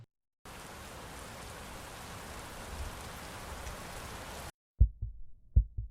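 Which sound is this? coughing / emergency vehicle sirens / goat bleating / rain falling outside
rain falling outside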